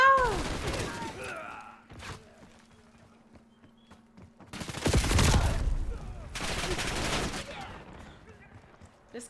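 Shotgun blasts in the video game Black Ops 7, several loud booming shots spaced a few seconds apart amid other gunfire, with talk in between.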